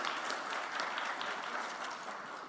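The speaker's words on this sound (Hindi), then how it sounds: "तालियों के साथ स्वागत कीजिए" An audience at a multilingual poetry gathering applauds to welcome a Bengali poet, an even, continuous patter of clapping from a seated crowd that holds steady for a couple of seconds without speech.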